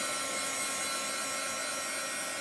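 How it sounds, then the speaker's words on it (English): Steady, continuous broadband whoosh of a heat tool blowing hot air, close and even throughout with no pauses or talk. "I'm going to just give it a little blast here with my heat tool."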